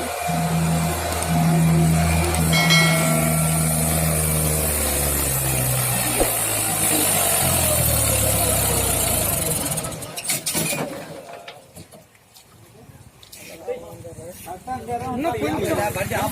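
A Mahindra 575 DI tractor strains to pull a heavy load through mud, its engine droning loud and steady before cutting out abruptly; people talk nearby and the engine noise returns faintly afterward.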